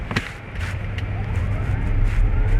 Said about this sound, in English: Driving the VF8. All right, we gotta accelerate,